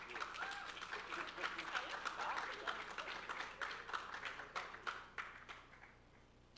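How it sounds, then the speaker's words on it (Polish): An audience gives award winners at the Dino Top Festival 2021 contest a round of applause, a faint, steady patter of clapping under a speaking announcer. "Gorące brawa, proszę Państwa."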